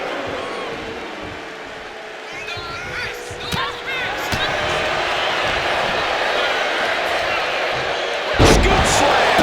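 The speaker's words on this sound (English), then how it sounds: "Scoop slam." A wrestling scoop slam thuds onto the mat in a women's match, a sharp impact heard late over a noisy, cheering arena crowd.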